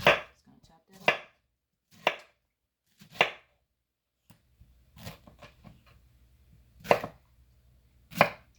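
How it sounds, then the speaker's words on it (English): A knife chops a pineapple on a cutting board, giving about eight sharp, separate thuds at an uneven rhythm, with quiet gaps and faint handling noise between the strokes. "So I'm just gonna chop that up."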